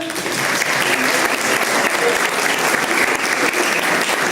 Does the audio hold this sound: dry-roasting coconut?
no